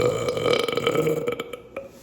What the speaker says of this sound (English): Burp for the vlog.